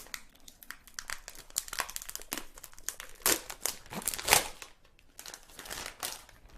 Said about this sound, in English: And it's also wrapped in this plastic, so let's go ahead and get it out.